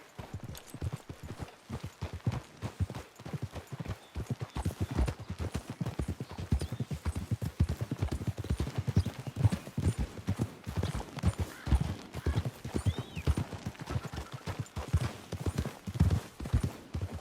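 Horses trotting in Red Dead Redemption 2, a steady run of hoof clip-clops on a hard path, close and continuous, with an occasional faint snort and no talk.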